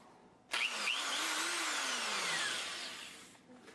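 A power drill bores into a ferro rod handle, starting abruptly, whining steadily for about three seconds with the pitch sagging slightly under load, then stopping, close up and fairly quiet.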